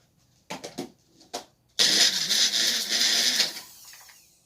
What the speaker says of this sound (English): Magic Bullet does it quick